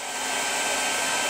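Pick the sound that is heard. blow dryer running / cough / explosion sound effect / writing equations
blow dryer running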